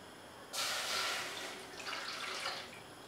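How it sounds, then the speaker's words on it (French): Water poured from a height into a pot to make homemade vanilla extract, a steady splashing pour that begins abruptly, swells and then tapers while still running. "maintenant, on va mettre les 100 ml d'eau"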